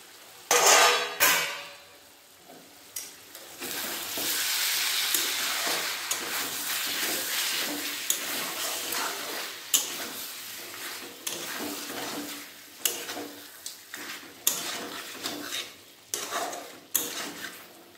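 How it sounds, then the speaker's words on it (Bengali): Meat being stirred in a covered cooking pot, heard as steady soft sizzling under repeated scraping and clinking of a spoon against the pot over about eighteen seconds, with no talk. "ঢাকাটা খুলে মাংসটা একবার ভালোভাবে নেড়ে নেব"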